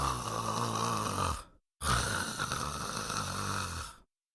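A wealthy merchant in a Hindi animated story snores in deep sleep: two long, loud, rasping snores close at hand, separated by a brief silent pause, with no talking.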